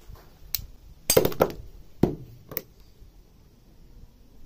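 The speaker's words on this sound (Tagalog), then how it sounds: "So isang pukpok pa yan." Hammer blows on a grass cutter (mower) head gearbox part during repair: a few sharp metallic strikes, one faint, then two close together, then another, close and fairly loud with quiet gaps between.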